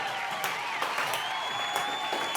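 Classroom applause at a mock award ceremony in a cheesy 90s-style sitcom scene, a steady patter of hand claps from a small group that holds through the whole short stretch at moderate level.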